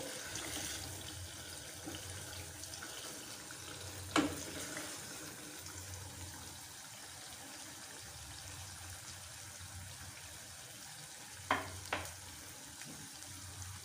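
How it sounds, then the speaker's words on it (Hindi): Onions fry to golden brown in a pan of hot oil for a red kidney bean curry, giving a soft, continuous sizzle with a few sharper scraping stirs, quiet and close with no talk. "तो प्याज को आप लाजमी जो है गोल्डन ब्राउन किया करें।"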